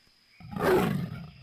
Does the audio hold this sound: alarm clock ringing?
no